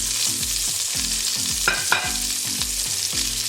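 Onions, round steak and bacon fry together in a hot pan, a steady loud sizzle with repeated scraping stirs and a couple of sharper clatters midway, no voices.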